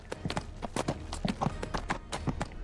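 Horse hooves clip-clop steadily in a Dungeons & Dragons video game, a brisk run of sharp, evenly spaced hoof strikes sounding close and clear with no talk over them.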